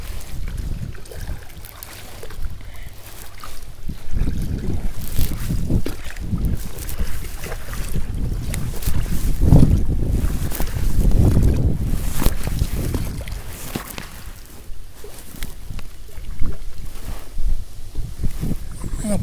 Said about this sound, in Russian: Ой, гребаный ветер.